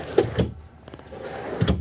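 Pull-out pantry drawers in a Renegade Verona LE 38LDG RV slide and thud open, a few short close knocks and rolling rumbles spread through a quiet interior.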